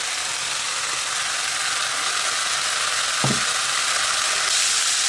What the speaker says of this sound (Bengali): আমার কষানো হয়ে গেছে, এবার আমি ভাজা আলুটা